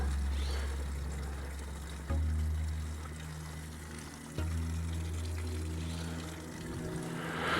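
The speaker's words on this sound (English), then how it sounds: "we're gonna let that drain out" Water drains steadily out of a syrup mixing tank in a continuous, close rushing and trickling wash, with the flow shifting in strength a couple of times.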